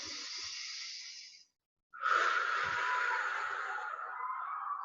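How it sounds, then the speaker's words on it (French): Two deep breaths filling the belly during a children's relaxation exercise, a long airy exhale, a brief pause, then a fuller, louder breath, close and with no talk. "On va prendre 3 grandes respirations ici."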